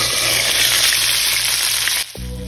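Chicken frying in a covered pan on a stovetop with no oil, a loud dense sizzle that cuts off abruptly near the end, leaving a quieter hum.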